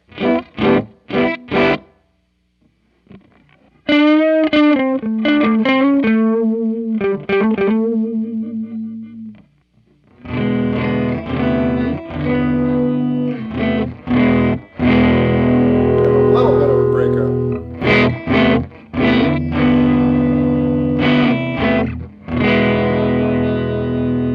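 Distorted electric guitar through a 2019 Fender Blues Junior FSR Western edition amp with gain cranked, strummed chords and short bursts giving way to loud, sustained crunchy riffing that rings out.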